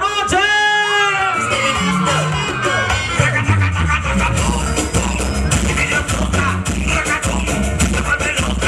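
Women in a wedding crowd scream, whoop and cheer loudly together, a dense, sustained roar of high voices filling the room for several seconds.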